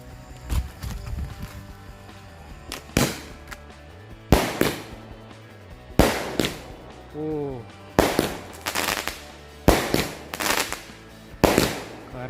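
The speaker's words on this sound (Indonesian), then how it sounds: "yang pertama kita nyalakan 2 buah mercon Roman Candle sekaligus sebagai pembukaannya" Two Roman Candle fireworks fire at night, a loud series of sharp pops about a second apart, some with whistling trails, ringing out over a quieter background.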